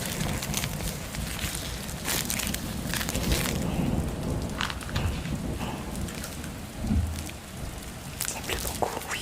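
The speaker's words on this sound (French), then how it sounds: "Ça pleut beaucoup, oui." Heavy rain pours steadily in a school courtyard, a dense continuous hiss with scattered drop impacts and low rumbles, loud and close throughout with no talk over it.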